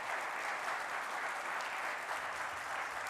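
A church congregation applauding at a deacon-to-elder ordination ceremony, dense continuous clapping from many hands that stays even and fairly distant throughout.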